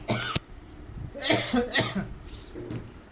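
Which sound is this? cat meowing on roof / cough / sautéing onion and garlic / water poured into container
cough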